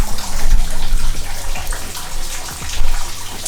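Loud, steady rush of water leaking inside a derelict Victorian house, a continuous splashing flow with scattered drips and knocks.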